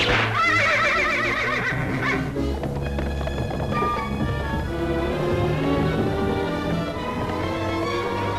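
A horse neighs loudly in a 1939 animated film, a shrill whinny at the start followed by a busy orchestral score with clip-clop-like rhythms continuing throughout.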